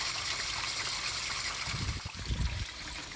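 Water running steadily through the cooling system of a C4 Corvette during a coolant flush, a constant broadband rush with a few louder gurgling surges toward the end.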